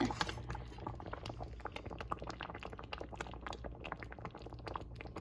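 Homemade peach jam boils thickly in a pot on a stovetop, a dense, continuous bubbling with rapid irregular pops and spits, close and steady throughout, with no voices.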